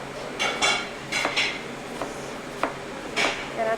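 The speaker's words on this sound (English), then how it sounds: "Going to chop that up really small." A kitchen knife mincing an onion on a cutting board makes a few irregular, close chopping knocks and taps, with quiet gaps between them and no talking.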